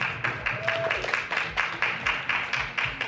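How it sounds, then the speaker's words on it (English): Audience applause at a brain health summit: a steady patter of many hands clapping at moderate level, with faint voices mixed in. "can we get a round of applause for that?"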